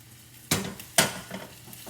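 Cooked garden rotini dropped into a hot pan, two sharp thuds a half second apart followed by a soft sizzle and light scraping, close and without talk.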